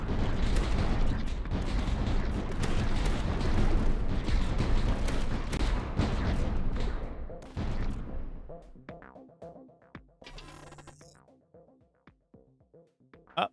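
Light mortar towers in a tower-defense game fire dense, continuous rumbling booms that fade into scattered, sharper shots and distant impacts.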